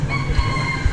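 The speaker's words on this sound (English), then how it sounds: "The roosters are crowing." A rooster crows in a brief, sustained call over a low rumbling background, at 4 a.m. in Hanoi's Old Quarter.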